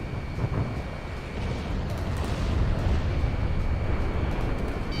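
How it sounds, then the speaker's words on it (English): A missile launches in the Xbox 360 flight combat game Ace Combat 6, a loud, sustained roaring rush of rocket thrust with a deep rumbling low end that holds steady for several seconds without pause. "Launching missile."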